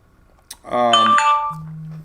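A doorbell-like ding dong chime sounds clearly, a bright two-tone ring followed by a lower sustained tone, loud and alone after a brief click.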